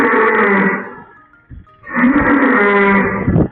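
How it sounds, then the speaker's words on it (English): Dairy cows on an Irish farm mooing loudly and close, two long drawn-out moos separated by a short pause, with no talking. "getting the cows across the road"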